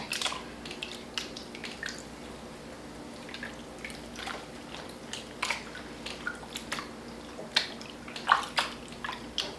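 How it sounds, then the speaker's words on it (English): A wig dunked in a basin of water while being toned with hair colour gives quiet, scattered drips and soft squishy splashes at close range. "make sure the whole wig is submerged in there"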